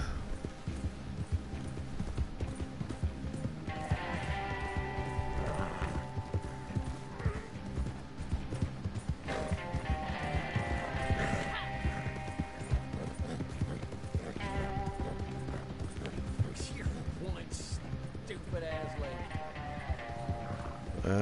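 Galloping horse in the video game Red Dead Online, a steady rapid clip-clop of hooves running continuously and fairly close, with a brief whinny mixed in under game music and ambience.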